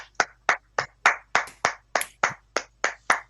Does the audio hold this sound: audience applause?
yes